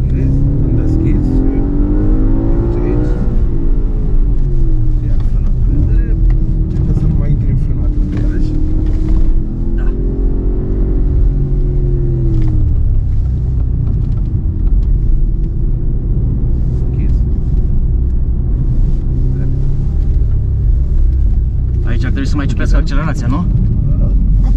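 An Audi RS4 engine roars continuously on a race circuit, revving up and down through repeated accelerations, loud and close, with occasional voices talking over it.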